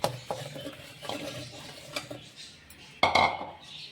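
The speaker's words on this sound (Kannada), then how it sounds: "ಈ ಮಿಕ್ಸಿ ಜಾರಿ ಒಳಗೆ ನಾನು ಕಟ್ ಮಾಡಿಟ್ಟಿರುವಂಥ ಆ್ಯಪಲ್ನ ಹಾಕೋತೀನಿ ನೋಡಿರಿ" Cut apple pieces drop into a mixer jar in a home kitchen, giving a few close, sharp clinks and knocks, with a louder thud near the end and no talking.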